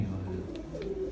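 A pigeon's short, low coo sounds briefly over a steady background hum at a village loft of paired birds.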